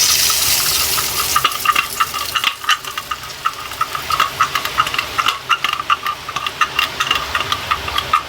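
Murukulu dough frying in hot oil for a festival snack: a dense, frothy bubbling and crackling that fills the whole stretch, loud and close, with rapid popping bursts growing more distinct toward the end.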